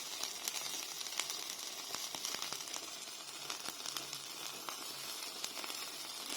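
Mac and cheese sizzles in a pan on the stovetop while it is stirred, a soft, steady hiss with scattered light crackles and occasional scraping taps, fairly quiet and close, with no talking.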